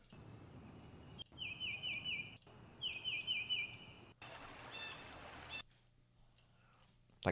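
Recorded bird calls, a few short repeated chirping bursts in two clusters over a steady background hiss, then a louder noisy stretch before near-silence.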